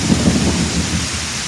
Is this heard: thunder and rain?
yes